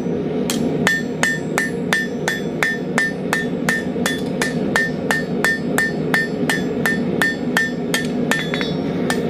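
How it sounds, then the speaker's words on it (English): Steady, evenly spaced hammer blows ring out on a steel dinner bell triangle under forging, each strike a bright metallic clang, about two per second, close and loud with no talking. "hitting anywhere that looks like a high spot, anywhere you see a line, forging that back down into it."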